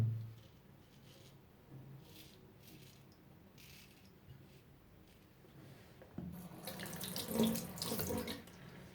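Water runs from a tap into a sink for face washing during a traditional barbershop shave, a quiet trickle building into a louder, steady splashing stream near the end, with no talking.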